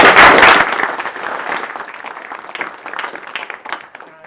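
Loud applause from an audience, starting strong then thinning to scattered clapping over a few seconds.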